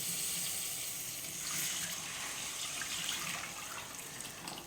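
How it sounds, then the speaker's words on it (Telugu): Tamarind juice pours steadily into a Nellore-style fish curry, giving a continuous watery splashing and trickling with a hiss, close and moderately loud, with no talking. "ఇదండి చింతపండు పులుసు పోసేస్తున్నా."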